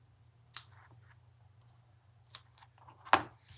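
Scissors trim ribbon loops on a handmade thank-you card, giving three distinct snips spaced apart over a steady low hum, close and fairly crisp, with no talking.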